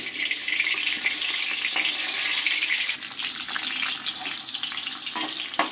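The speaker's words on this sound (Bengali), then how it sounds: "সব সবজিগুলো হালকা করে ভেজে নিতে হবে" Sliced vegetables such as eggplant, ridge gourd and bitter gourd fry lightly in hot oil for a mixed paneer sabzi. A loud, even, hissing sizzle runs steadily throughout with no voices.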